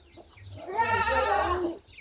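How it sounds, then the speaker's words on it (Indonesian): A goat gives one loud, close bleat lasting about a second, wavering and nasal, over faint background noise. "Kambing."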